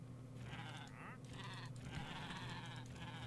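Sheep in a cozy survival video game bleat in a few wavering calls over a steady low hum, soft and evenly spaced across the clip.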